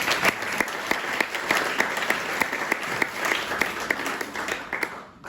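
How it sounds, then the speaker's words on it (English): An audience at a community jubilee event claps in a steady, moderately loud round of applause with sharp individual claps standing out, fading toward the end. "One more round of applause for them."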